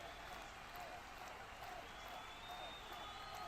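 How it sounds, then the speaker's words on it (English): Steady applause from the Anfield football crowd at a Liverpool–Galatasaray Champions League match, a dense continuous wash of clapping heard from a distance, with no break across the moment. "More applause from the Anfield crowd."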